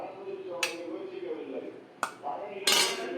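Ivy gourd curry being spooned from a pan into a serving bowl, with a few sharp metallic clinks of utensil against cookware at the start, middle and end, under soft speech.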